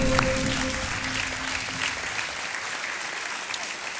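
Studio audience of a televised quiz game show giving dense, continuous applause that holds at a steady, loud level throughout, with a brief steady tone sounding at the start.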